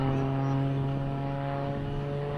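A Pitts aerobatic biplane at an airshow drones steadily through a loop, its engine a continuous, even hum with strong low harmonics, moderately distant and unbroken throughout.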